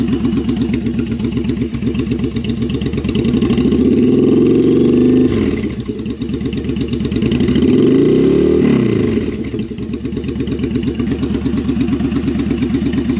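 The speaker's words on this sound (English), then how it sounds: "Bike's idling nicely." A custom bobber motorcycle engine idles steadily and loudly close by after carburetor syncing, its rapid low putter swelling slightly twice as the revs rise and fall.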